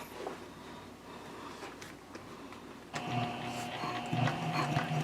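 Sewing machine top stitching a handbag strap at a long stitch length, a steady close mechanical whir that grows louder and busier partway through, running continuously without talk.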